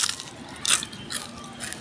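Crispy fried kamote (sweet potato) bitten up close: a couple of short crunchy snaps, with one louder bite near the middle and a softer follow-up, no talking.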